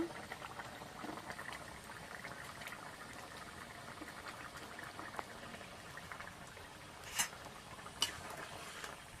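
Rui fish curry gravy with fried potato and pointed gourd simmers in a pot, a soft, steady bubbling with occasional louder pops near the end; no voices.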